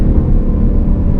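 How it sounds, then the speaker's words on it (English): A 2018 Ford Mustang GT's exhaust gives a brief, loud, close low rumble during a downshift, a continuous deep burble with no voices. "you can definitely hear that exhaust coming out from the back"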